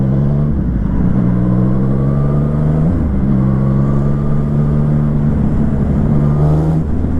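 A Yamaha MT-09 motorcycle pulls hard in 4th gear, its loud engine drone rising steadily in pitch, dipping briefly at a shift around midway, then climbing again under rushing wind.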